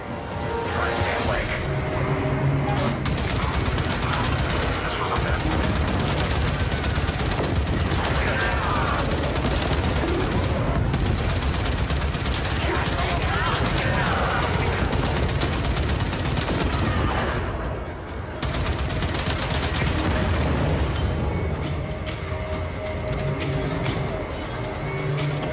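Dense, continuous naval gunfire from ship guns in the video game Warframe, a sustained loud barrage with rumbling blasts and crashes, while voices speak over the battle.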